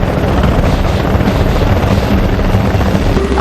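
A helicopter in the TV series Special Ops: Lioness, its rotor and engine roar holding loud and steady throughout with no speech over it.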